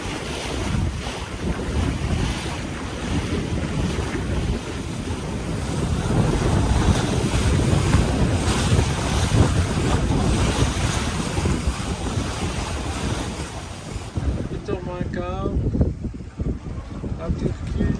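Steady wind roar in about 12 knots of wind and rushing water against a moving sailboat in the Aegean near Turkey, loud and continuous, with a brief creak or tonal sound near the end.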